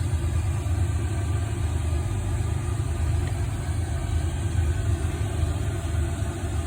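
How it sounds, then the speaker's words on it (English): A diesel heater runs with its fuel pump going, giving a steady, loud, low droning hum that stays constant throughout without any clearly separate ticks standing out. "I got this new diesel heater working. It's the fuel pump's going, and you can obviously hear it."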